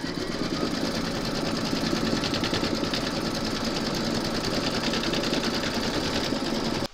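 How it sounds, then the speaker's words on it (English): Close and loud, an embroidery machine stitches round five of a large parrot appliqué held in its hoop, a continuous rapid mechanical chatter lasting about seven seconds before cutting off. "Pop your hoop into your machine and stitch round number 5 to secure them."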